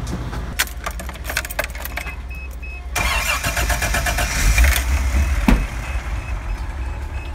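Keys jingle, then a Toyota FJ60's engine cranks and starts, revving up and settling into a rumbling idle as it moves off nearby, fitted with a rebuilt early H55F manual transmission.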